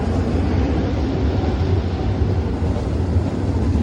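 A continuous heavy rumble of a moving train fills the clip, steady and loud, with dense low mechanical noise and no speech.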